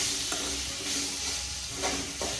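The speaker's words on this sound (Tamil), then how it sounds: "அதை ஆட் பண்ணிக்கலாம். ஆட் பண்ணி இதோட பச்சை வாசனை போகிற அளவுக்கு நல்லா வதக்கிக்கணும்." Ginger garlic paste sautés in a pan with a steady, soft sizzle, broken by a few brief scraping stirs against the pan.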